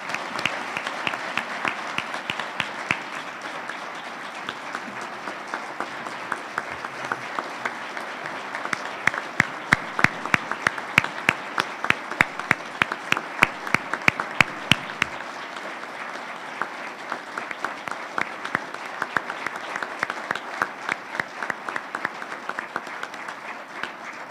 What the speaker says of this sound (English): give them a round of applause of appreciation